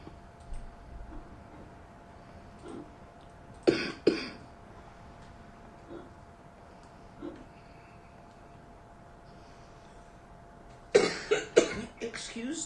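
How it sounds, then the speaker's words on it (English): Two separate bursts of coughing, one early and a longer fit near the end, break a quiet room with faint ticking in between. "Excuse the bit of coughing that's going to happen this morning."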